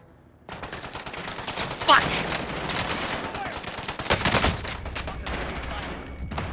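Gunfire in the battle-royale shooter Warzone, rapid bursts of shots crackling throughout amid game noise, with a sharper cluster near the middle, while players talk over it.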